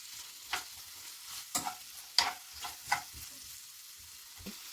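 Onion and spinach frying in a little oil in a pan, quiet crackling sizzle punctuated by several sharp scraping stirs of a utensil.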